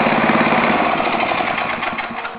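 Ariens snowblower engine running just after a cold start, a loud, steady small-engine drone with a lawn-mower-like chatter that holds close and continuous throughout, easing slightly toward the end.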